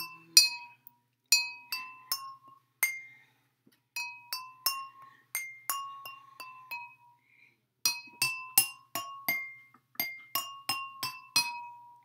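A quick series of pencil taps on a glass of water, ringing clinks with varying pitches, grouped in bursts with short pauses between them.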